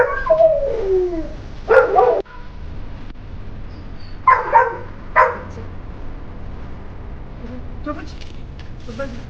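A native Indian breed dog in training gives a few sharp barks and yips in short bursts with gaps between, fairly close and loud, along with some whimpering, over a quiet background.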